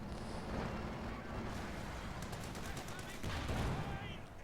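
Dense, sustained gunfire from a BAR and an anti-air half-track in a Company of Heroes-style WWII strategy game rattles on in rapid bursts, heard over a caster talking excitedly.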